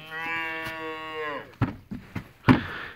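A cow lets out one long, loud, drawn-out moo close by, followed by a few short thumps and rustles.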